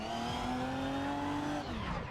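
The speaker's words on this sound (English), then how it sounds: "So that was more wheel spin as opposed to kind of oversteer under load." A racing car spins its rear wheels after the throttle is picked up too early, giving a loud, steady engine drone with a sustained tire-scrub whine that holds for about two seconds, close and continuous with no talking.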